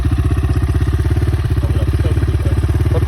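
A Rottor 300cc enduro motorcycle engine revs with a steady, fast, rough throb, loud and close, holding a constant pulsing beat throughout.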